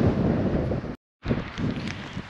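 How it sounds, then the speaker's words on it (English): Gusty wind roars against the microphone, cut by a short moment of silence before the blustery rumble resumes. "I think this wind's eventually going to die down later in the week"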